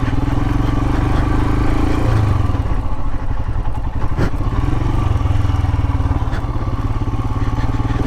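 A Royal Enfield Himalayan motorcycle rides off-road over rocky ground, its engine thumping steadily and close, with clattering and occasional thuds from the rough terrain.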